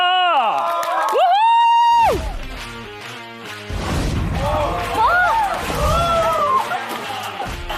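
Applause and cheering from a studio audience as the season's interns and their mentors walk on stage; a burst of crowd noise and clapping over music, with a host's voice in between.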